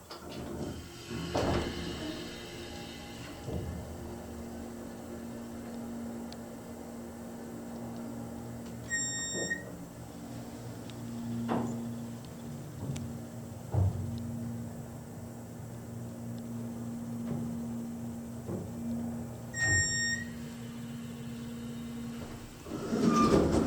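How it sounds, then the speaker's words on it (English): 1972 Eastern hydraulic elevator motor running, a steady low hum with faint mechanical clunks and two brief chime tones, heard close with no talk. "This time we're going to start the motor doors closed."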